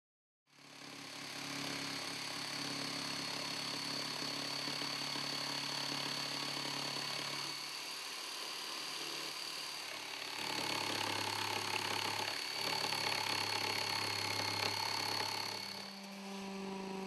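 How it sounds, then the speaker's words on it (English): A power saw cutting a curved radius into a wooden bed side rail, a continuous buzzing whine running for most of the stretch with a slight shift in pitch midway. "use a jigsaw or coping saw to cut the curved radius on the right and left side rail"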